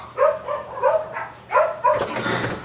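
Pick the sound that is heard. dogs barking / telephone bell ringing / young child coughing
dogs barking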